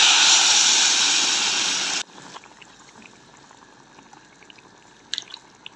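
Water is poured into a pot of salted rice cooking on a home stove, a steady loud rush for about two seconds that cuts off abruptly, leaving faint clinks and kitchen noise.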